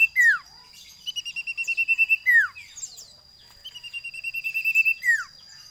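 A cipuw bird sings a clear, close song of repeated whistled phrases, with steady notes and sharp downward-sliding calls in a regular pattern. A thin constant high whine runs underneath.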